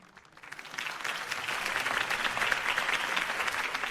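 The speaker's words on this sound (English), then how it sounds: "If only Mr. Wayne, my campaign's largest backer, could have heard that applause" A crowd's applause swells up from quiet to a full, steady clapping roar in a scene from Batman: The Telltale Series.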